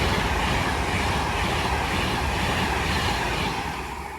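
An Avanti West Coast train bound for Liverpool passes through Watford Junction, a loud, close, continuous rumble with wheel clatter that eases slightly as it moves away.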